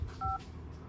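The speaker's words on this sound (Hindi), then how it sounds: "तो चलिए यहाँ पे मैं एक पासकोड डालने वाला हूँ।" Phone keypad tones sound as a passcode is entered on an Oppo A9 smartphone: a single short, clean dual-tone beep heard up close over quiet room noise.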